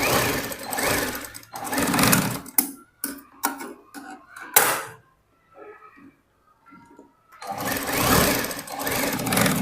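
Sewing machine stitching fabric for Afghani-style trousers, running in loud sustained bursts at the start and end with short stop-start runs and a quiet pause between.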